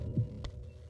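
A single dull, low heartbeat thump from the video game Dementium: The Ward, close and muffled over a low hum in a very short moment.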